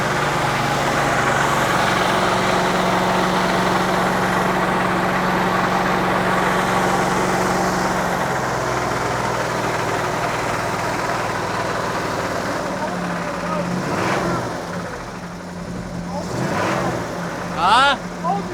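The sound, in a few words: Chevy 350 V8 engine idling with a rattle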